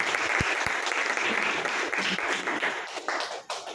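Steady applause from an audience at a business promotion event, many hands clapping together in a dense, even wash that starts with a couple of sharp low thumps and fades slightly at the end.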